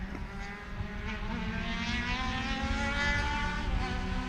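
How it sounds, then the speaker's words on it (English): Formula Atlantic race cars lap Sebring during a winter race, a steady, loud engine drone with rising and falling harmonic whines as cars pass, continuous throughout with no talking. "James French in Formula Atlantic is leading overall"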